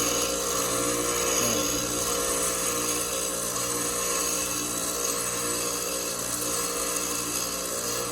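A lathe bit being ground on a grinder wheel, a steady, dense, continuous grinding hiss with a constant hum beneath, close and unbroken throughout.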